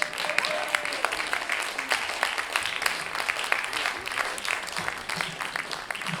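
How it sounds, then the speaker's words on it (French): An audience at a slam poetry tournament night in Lyon applauds the performer Mélo Sola, with dense, steady clapping filling the whole stretch at an even level. "pour Mélo Sola, qu'on applaudit bien fort."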